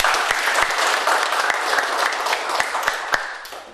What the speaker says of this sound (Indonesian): Kita beri aplaus untuk kita semua.